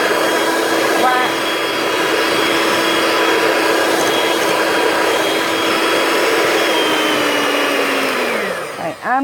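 An electric hand mixer whirs steadily through peanut butter cookie dough with packed brown sugar, a loud continuous motor drone that holds the same pitch and then winds down sharply at the end.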